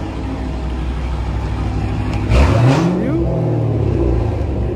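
A Dodge Hellcat's engine rumbles at low pitch and then revs hard, the pitch sweeping up and back down in a loud, close burst, with a voice briefly heard over it.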